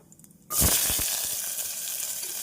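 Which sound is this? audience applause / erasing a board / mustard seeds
mustard seeds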